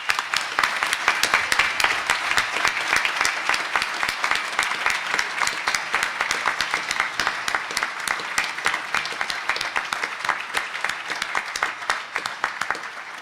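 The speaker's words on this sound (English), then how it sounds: "Michael, I think, deserves a special applause, and if you join with me, I want to thank him again." An audience at a panel discussion on Michael Crichton's State of Fear gives a speaker sustained applause, dense steady clapping from many hands that holds evenly for over ten seconds without talk.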